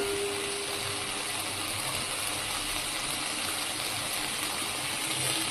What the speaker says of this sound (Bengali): এই যে চিনি আর গুড় দিয়ে একটু জল দিয়ে দেবো।